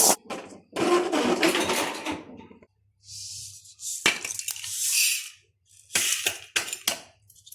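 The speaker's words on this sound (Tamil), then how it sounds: "வெங்காயம், தேங்காய் எல்லாம் அரைச்சாச்சு" A kitchen mixer grinder grinds onion and coconut in several short, loud whirring bursts separated by pauses, with clunks and knocks between runs, heard close.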